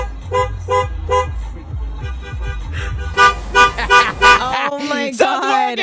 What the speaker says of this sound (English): He'll honk a certain rhythm, and he wants to see if other people will play along.